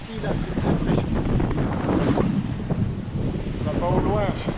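Strong wind roars steadily across a sailboat at sea between Gambia and Casamance, with heavy breaking waves washing beneath it in a loud, unbroken rush for the whole stretch.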